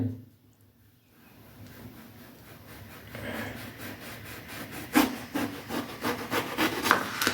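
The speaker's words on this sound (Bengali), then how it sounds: "আমি এখন এটা কেটে নেব কীভাবে কাটছি আপনারা আগে দেখুন একদম এইভাবে" A knife slicing through a large round eggplant for a Bengali eggplant and shrimp dish, giving steady scraping, rasping strokes that grow louder and more rhythmic toward the end, close by with no voice over them.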